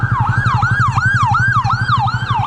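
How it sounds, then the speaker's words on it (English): An ambulance siren wails in a fast, repeating up-and-down sweep, loud and close, with a low engine rumble beneath and no talking. "It's an ambulance."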